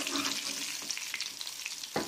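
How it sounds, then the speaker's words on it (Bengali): Pieces of chicken for chilli chicken frying in a pan with oil, a steady close sizzle with occasional turning and stirring clatter, a sharper scrape near the end. "এভাবে আপনারা উল্টে পাল্টে মাংসগুলোকে ভেজে নেবেন"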